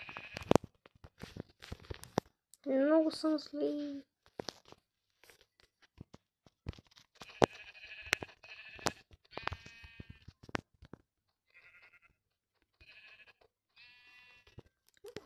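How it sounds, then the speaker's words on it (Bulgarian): Sheep bleating in a Minecraft video game, one clear wavering bleat near the start followed later by a few fainter, shorter game sounds amid clicks and crunching, with a brief spoken line. "Трябва ми овца."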